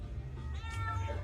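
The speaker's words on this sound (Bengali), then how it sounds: "সব জায়গায় মিয়াও এই বেড়ালটা" A cat meows close by indoors, a drawn-out, wavering call over a steady low household hum.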